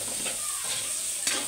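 Pinakbet vegetables stirred in a sizzling pan, a close, steady frying hiss with a soft scrape of the spoon near the end.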